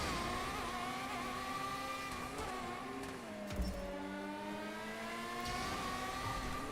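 A car engine in GTA Online revs and pulls through its gears, the pitch rising and falling as it accelerates, turns and shifts, heard up close and steady with no talking.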